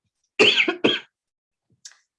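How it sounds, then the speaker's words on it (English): Two sharp coughs in quick succession from someone recovering from COVID, close and fairly loud, followed by a short pause and a faint, small throat sound. "apologies for my cough, just recovering from COVID"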